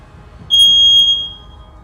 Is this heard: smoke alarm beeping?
yes